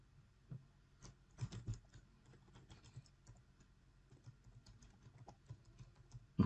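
Quick, light clicks of typing on a computer keyboard while entering slide text in PowerPoint, a scattered, irregular patter of keystrokes, close and fairly soft, with no talking.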